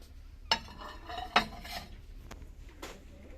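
Ceramic pizza plates, 30.5 cm across, clink and clatter together in two sharp knocks, followed by softer scraping and light taps, close and fairly quiet with no talking.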